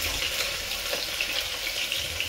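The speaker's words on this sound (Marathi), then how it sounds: "तेल सुद्धा आपलं चांगलं तापलेलं आहे। त्याच्यामध्ये आता मी कढीपत्ता टाकणार आहे" Curry leaves dropped into well-heated oil in a pressure cooker give a steady, fairly close sizzle that holds constant for a couple of seconds with no talking.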